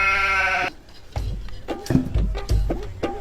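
A goat on a homestead bleats once in a long, loud, wavering call, followed by softer rustling and thumping movement nearby.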